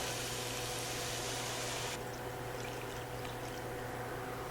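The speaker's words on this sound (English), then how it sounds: "let's go ahead now and add our beef consomme or broth." Beef consommé broth pours into a crockpot slow cooker for Salisbury steak and gravy, a faint, steady liquid rush that softens partway through.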